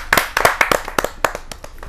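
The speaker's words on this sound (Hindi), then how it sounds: "जहाँ जोरदार ताली बरसाएं" A small audience at a kavi sammelan poetry gathering claps unevenly, around a dozen distinct hand claps spaced irregularly over a couple of seconds, close and fairly sparse rather than a full ovation.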